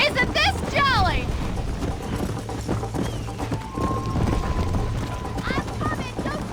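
Horse galloping in the Western video game Red Dead Redemption, steady rhythmic clip-clop hoofbeats close by, with a whinny near the start and voices calling out over the hooves.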